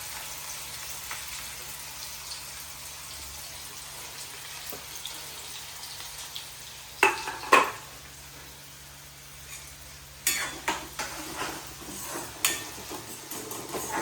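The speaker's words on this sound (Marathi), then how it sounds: "फोडणी घालू." Spices tempering in hot oil for a Malvani dal and green pea usal, a soft steady sizzle with a few louder crackling bursts partway through, heard close with no speech.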